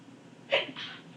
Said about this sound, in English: that was a sneeze there